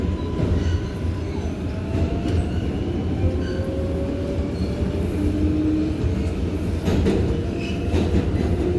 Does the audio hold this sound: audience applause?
no